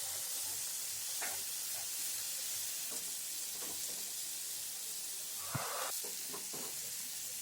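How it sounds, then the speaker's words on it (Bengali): Fish sizzling in hot oil in a wok while being fried on both sides for a Bengali fish curry, a steady, moderately faint hiss and crackle throughout with a few soft clinks of a utensil and no talk. "মাছগুলো আমার খুব ভালো করে এপিট ওপিট ভাজা হয়ে গেছে।"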